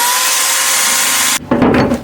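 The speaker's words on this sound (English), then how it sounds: "Got the drill press going the right way." A drill press with a polishing wheel whirs in a loud, steady high-pitched grind against a bicycle crank, then briefly cuts off and resumes with a rougher rubbing tone.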